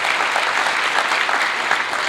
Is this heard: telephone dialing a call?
no